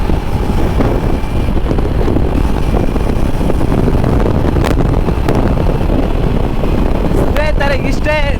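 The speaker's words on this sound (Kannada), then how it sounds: "ಸ್ವಲ್ಪ ತಣ್ಣ ಗಾಳಿ ಬರ್ತಾಯಿದೆ" Cold wind roars steadily against the microphone while riding a motorbike along a highway, a dense, continuous rushing wash that stays loud throughout with brief traffic noises near the end.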